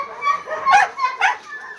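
A small dog about 45 centimetres tall gives two close, short barking yips mixed with high whimpering, loud and near, with a faint voice behind it.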